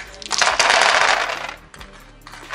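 A handful of twelve dice rattles and clatters across a table during an Age of Sigmar tabletop battle, a dense loud burst of plastic clicks that tapers off over about two seconds.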